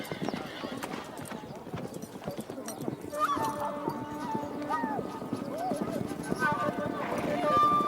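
Horse hooves clip-clop in a steady running rhythm during training for a Naadam race in Mongolia, with high whinnies rising over the hoofbeats and outdoor background noise throughout.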